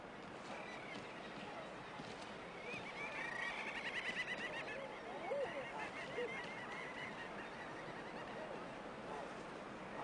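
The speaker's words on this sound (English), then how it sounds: "Huddling nervously where careless hooves might fall, a well-camouflaged eider duck covers her nest." Nesting shore birds and an eider duck call along a shoreline, honking and chattering calls rising in the middle of the stretch over a steady outdoor wash, moderately near.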